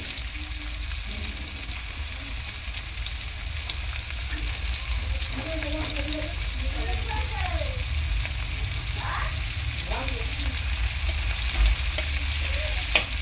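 Onions hit a pan of frying kachur loti at home, with a low steady sizzle and occasional stirring scrapes and clinks, fairly quiet throughout.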